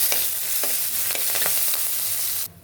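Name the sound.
curry leaves sizzling in tempering oil with garlic, mustard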